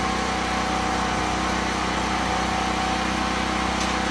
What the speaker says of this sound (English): So now for the pressure washer.